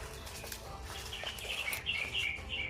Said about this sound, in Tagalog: Sobrang daming ibon.